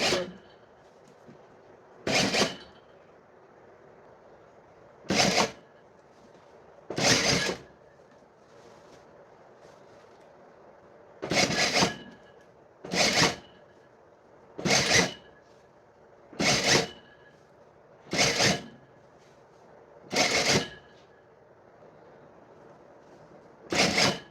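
A sewing machine stitching the hem of an elastic-waist skirt runs in about eleven short, even bursts of roughly a second each, separated by quiet gaps over a faint steady hum.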